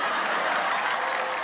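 Dense, steady applause from a live audience at a Hindi comedy-poetry stage show, a continuous wash of many hands clapping close and loud, with no distinct voices.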